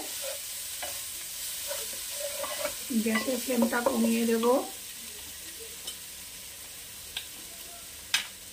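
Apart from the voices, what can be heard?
capsicum with spices frying and being stirred in pan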